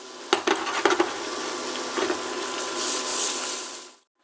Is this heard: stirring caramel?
yes